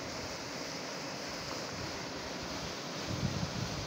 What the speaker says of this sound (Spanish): Mira, un molino de agua.